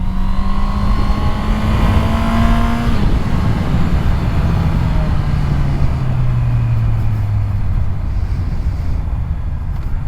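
A Honda CB650R inline-four motorcycle engine revs hard toward a high redline, a loud sustained whine that holds steady, then drops in pitch as the revs fall away, heard close over rushing wind noise.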